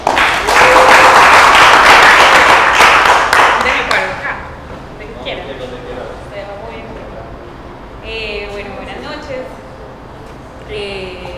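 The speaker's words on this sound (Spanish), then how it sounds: "un aplauso para ti" Audience applause rings out loudly for about four seconds, dense clapping that then fades out, leaving quieter room sound and a person speaking softly afterward.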